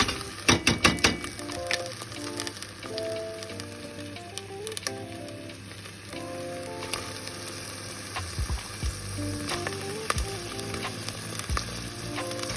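Coconut milk frying with green curry paste for a Thai beef curry, a steady close sizzle with brisk stirring scrapes and clatter early on, no voices.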